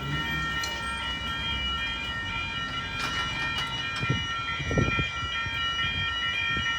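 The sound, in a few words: V set train at Hamilton Railway Crossing, Newcastle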